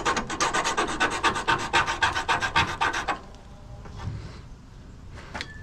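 A hand file rasps across a piece of scrap non-ferrous metal, likely aluminum or brass, in about a dozen quick, even, close strokes that stop after three seconds, leaving only faint handling noises.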